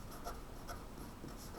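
Pen or pencil scratching out values while graphing inequalities on a number line, a short series of soft, quick strokes, close and quiet, with no speech.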